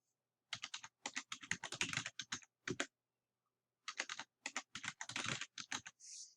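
Keys clatter on a computer keyboard as a root password is typed in, two quick bursts of close, crisp keystrokes separated by a short pause, with no talking.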